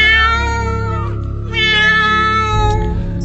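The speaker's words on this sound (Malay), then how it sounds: "Ada dalam lebih kurang 5 ataupun 6 ekor kucing sedang mengiau." Several cats meow loudly at close range, their long drawn-out, wavering cries overlapping and rising and falling one after another, with no talk over them.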